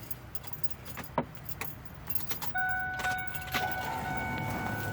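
Keys jangle and clink as someone fumbles for the keyhole of a 7.3 Powerstroke truck, a few sharp metallic rattles followed by a click and a steady low hum as the ignition turns on.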